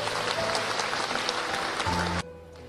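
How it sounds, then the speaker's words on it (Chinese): Audience applause at the Magnolia Award ceremony of the Shanghai TV Festival, a dense hall-wide clapping that runs steadily for about two seconds before cutting off abruptly. "这份荣誉再次掌声响起，祝贺孙俪。"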